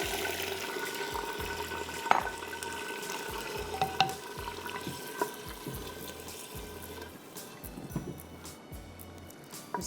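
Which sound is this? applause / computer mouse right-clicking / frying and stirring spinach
frying and stirring spinach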